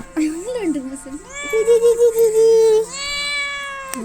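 A cat meows loudly and repeatedly up close, drawn-out wavering cries, the last one long and plaintive.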